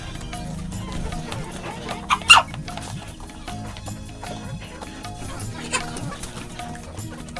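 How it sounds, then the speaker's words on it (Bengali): Desi hens and roosters clucking softly in a poultry farm with scattered rustling and a couple of sharper squawks, fairly quiet background activity throughout. "দেশি মোরগ দেখতে পাচ্ছেন কত সুন্দর একটি মোরগ"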